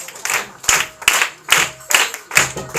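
A church congregation claps in short bursts to welcome a preacher, five or six sharp rounds of applause about half a second apart, close and loud, with a brief faint voice between them.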